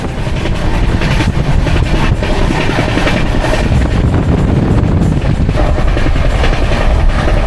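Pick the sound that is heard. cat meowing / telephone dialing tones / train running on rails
train running on rails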